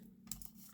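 A single quick snip of scissors cutting a small piece off glued craft material, close and faint, in an otherwise quiet room.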